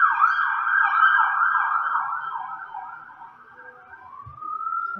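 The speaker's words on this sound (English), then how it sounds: "Oh, there go the sirens again." An emergency vehicle siren wails outside in a continuous warbling tone, loud and steady at first, then dipping and shifting to a rising sweep as it passes.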